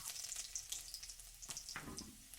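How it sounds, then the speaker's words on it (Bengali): Chopped garlic fries in refined oil with white cumin seeds in a wok, giving a steady soft sizzle with fine crackles and a couple of brief stirring scrapes, fairly quiet and close. "রসুনটাকে একটু ভেজে নেব"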